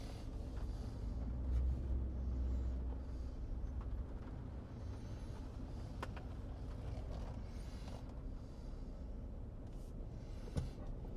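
Ford F-150 pickup with the 5.0 Coyote V8 idling warm before an oil change, a low steady rumble heard close and continuous throughout, with a few faint clicks and handling sounds.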